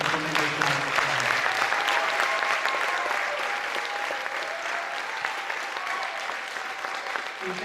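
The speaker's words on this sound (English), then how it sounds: "Let's give this great group of student athletes a tremendous round of applause." Sustained applause from an audience at a high school December signing ceremony for student athletes, steady and fairly close, holding at an even level throughout with some faint voices mixed in.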